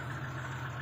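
A car engine idles steadily while warming up, a low, even rumble, close by and unchanging, with no voices.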